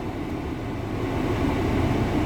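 Steady broadband whoosh of a car's ventilation fan blowing at its maximum setting inside the cabin, constant and close with a slight rise toward the end, no voices.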